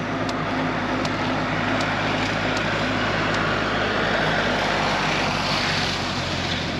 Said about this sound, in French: on va attendre que le tracteur soit plus loin